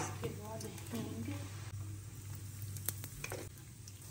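Cumin seeds and asafoetida hit hot olive oil in a pan, giving a soft, steady sizzle with light crackling, faint and close, while someone talks over it.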